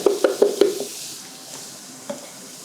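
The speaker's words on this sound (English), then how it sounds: "And you just want to saute these onions until they just start turning brown." Diced onions sautéing in hot olive oil in a pan: a few sharp clinks and stirring knocks open the stretch, then a soft, quiet sizzle carries on with one more light tap near the end.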